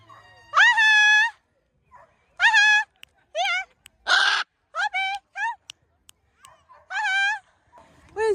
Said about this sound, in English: Yeah, big macaw.